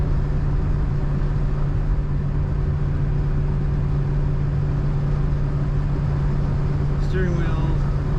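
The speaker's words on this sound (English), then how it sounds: "Getting a little bit of wind noise from the driver's door seal or window seal." Steady broadband wind rush leaking past the driver's door or window seal of a 1969 Ford Falcon Futura while driving, a constant hiss layered over low road and engine drone, with a brief higher squeak near the end.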